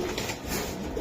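Coloured pigeons giving a soft, steady cooing murmur close by for a brief moment, with no one talking.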